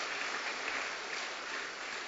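A church congregation claps during a Sunday worship service, a brief, steady wash of applause at moderate distance with no talk over it.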